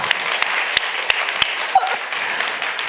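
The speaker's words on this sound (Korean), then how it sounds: "그리고 박수 칠람 제대로 쳐" A church congregation claps together during a Sunday dawn worship service, a steady wash of hands with a few sharper claps standing out, fairly close and continuous.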